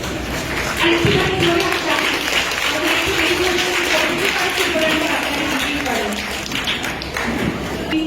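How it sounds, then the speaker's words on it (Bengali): An audience claps continuously at an official district administration event promoting new voter turnout, with a dense, steady applause and a voice speaking over it. "জোরে হাততালি তাদের"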